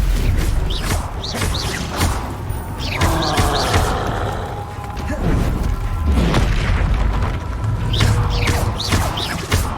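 A Confringo fire spell exploding in the Hogwarts Legacy video game: a loud booming blast with whooshing swishes and thuds, repeated bursts over dense layered game noise.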